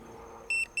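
A device gives two short, clear electronic beeps as a controller is powered on, sounding close over a faint background hiss.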